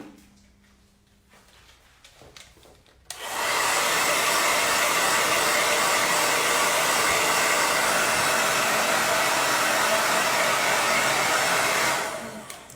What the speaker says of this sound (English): I'm going to blow dry this really quick.